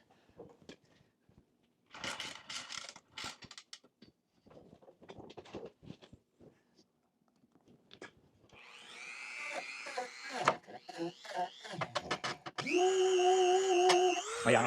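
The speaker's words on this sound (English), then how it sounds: "Got a little bitty cut brush on this Dremel. Should go right down in there. And we'll just run it through that hole real quick." A Dremel rotary tool with a small wire cup brush whirs into a Jeep door hole, cleaning out grime: quiet handling and scraping at first, then a high, loud rotary whine with short bursts and a sustained run near the end.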